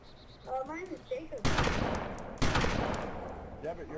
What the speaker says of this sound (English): I'm just gonna shoot this freaking zombie.